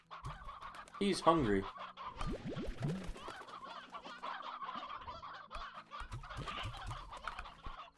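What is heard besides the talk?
hen clucking in the video game Slime Rancher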